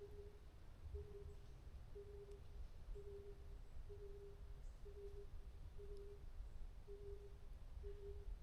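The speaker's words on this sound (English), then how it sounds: "Oh, and the bird is calling." A bird calls from a wooded slope on Heukseongsan Mountain in Korea, repeating a steady hoot-like note roughly once a second, faint and distant over soft outdoor background noise.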